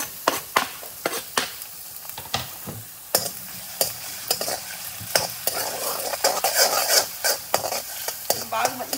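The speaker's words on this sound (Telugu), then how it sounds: "సో ఇప్పుడు నేను దీనికి చాప్ చేసుకున్న గార్లిక్ వేసేసుకుంటున్నాను." Chopped garlic frying in a hot pan, a continuous bright sizzle punctuated by rapid, loud spatula scrapes and taps against the metal, stirring grows busier toward the end.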